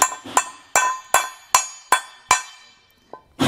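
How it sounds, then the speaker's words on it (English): A hammer taps a part of a B and W Turnoverball gooseneck trailer hitch into place on a 2022 Ford. Six sharp, evenly spaced metallic strikes ring out up close, followed by a lighter tap and the start of another. "take a hammer and just tap this into where it sits flush"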